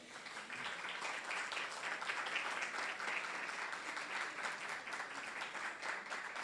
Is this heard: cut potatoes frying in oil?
no